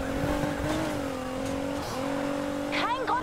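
Engine drone from a car in the racing game Need for Speed Heat holds a steady pitch with a brief shift mid-way and a quick rev or squeal near the end, loud and close.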